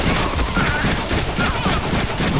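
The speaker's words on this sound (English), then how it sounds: "This guy's unloading bullets on me, bro." Rapid, loud automatic gunfire in the Deadpool video game on PS4, a continuous crackling fusillade of overlapping shots with no pause.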